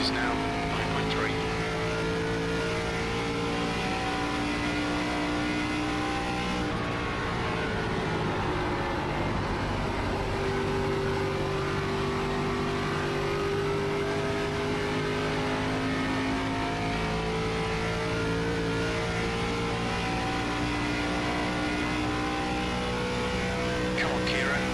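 Race car engines in iRacing, an ARCA Menards Series oval race at Kentucky, drone loudly and steadily for the whole stretch, with pitches that shift as cars pass. A voice talks over the engine noise.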